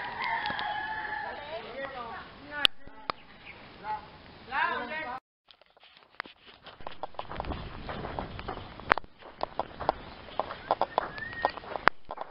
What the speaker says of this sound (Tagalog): Yung kabayo dito, ang laki na.